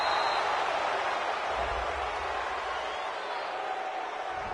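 A home crowd in a football video game roars in a steady, dense wash of cheering that holds at an even level throughout, filling the background without clear breaks.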